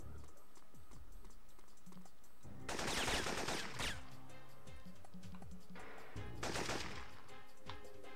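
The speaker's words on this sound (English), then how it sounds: "So we have a sniper rifle as well." Sniper rifle fire in the PS1 video game Syphon Filter: two loud, harsh gunfire bursts, each lasting about a second, over a busy game soundtrack and ticking effects, with no speech.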